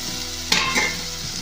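Chopped tomatoes land in a pan of sizzling squid curry gravy, giving a sudden loud burst of hissing frying close by that settles into a steady sizzle with some light stirring.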